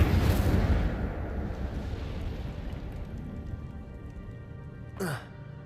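The Incendio fire spell goes off in Hogwarts Legacy, a loud burst of roaring flame and crackle that fades gradually over several seconds, followed by a brief whooshing sweep near the end.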